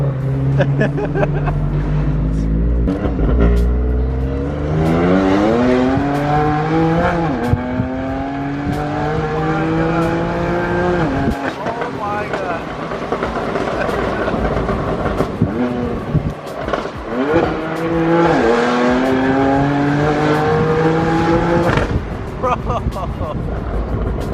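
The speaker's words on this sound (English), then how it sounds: "It's so loud, dude. Titanium exhaust." Loud, roaring engine of a convertible BMW M4 with titanium exhaust revving and accelerating repeatedly, pitch climbing through gears, with voices shouting over the throaty exhaust.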